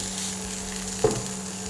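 Plant-based char siew stir-fried with mushrooms in hot oil gives a steady, close sizzle and hiss throughout, broken by one brief knock or scrape of the stirring utensil about two-thirds of the way through.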